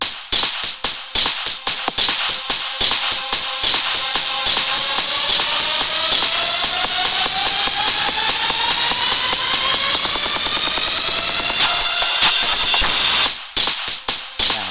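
A beat made in the Super Pads music app: punchy repeated drum hits open, give way to a long rising synth sweep, then the drums return near the end, loud and continuous.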